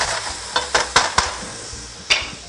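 A flat wooden paddle stirs food in a pot while making Peruvian ceviche, giving several distinct scraping knocks in a loose rhythm over a quiet sizzle, close and fairly loud.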